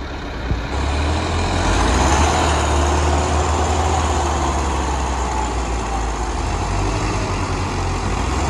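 A Massey Ferguson 385 tractor's diesel engine runs steadily and loudly close by, a deep continuous rumble with no break, apparently labouring while stuck in a crop field.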